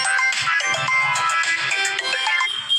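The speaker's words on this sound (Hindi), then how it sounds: "पता नहीं किस किस का फ़ोन आता रहता" A mobile phone ringtone plays a repeating electronic melody, loud and close, inside a taxi in Delhi NCR, with no talk over it.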